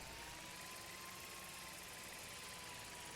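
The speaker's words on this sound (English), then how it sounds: "Aí brincando com o drone." A toy drone flying around a school campus in the video game Life Is Strange, a steady loud whirring hum of rotors that continues unbroken throughout, with no voices.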